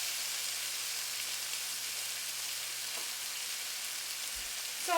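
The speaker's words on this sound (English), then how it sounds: "the mushrooms are starting to caramelize onto the pan" Mushrooms fry and caramelize in a hot pan for a vegetarian mushroom gravy, giving a steady close sizzle with a brief stir or scrape near the end and no talking.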